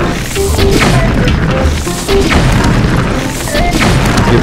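In the Master Mode Chaas Qeta shrine of Zelda: Breath of the Wild, game explosions blow up pillars: a run of loud booms and crashing impacts one after another over a busy game soundscape.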